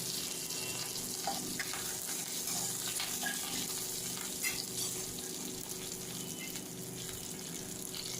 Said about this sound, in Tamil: பொடியாக நறுக்கிய பச்சை மிளகாயையும் சேர்த்து இதை போட்டு நல்லா வதக்கிக்கோங்க